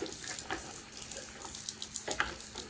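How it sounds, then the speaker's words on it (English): Hummingbird feeder items dunked into a bucket of tap water mixed with bleach, giving close, continuous splashing and sloshing with small gurgles, no talk. "I'm going to dunk all of these in here"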